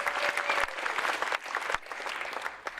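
Audience applause welcoming a volunteer onto the stage at a testimonial-sharing event, steady clapping from a room of people lasting the full stretch with a few sharper claps standing out.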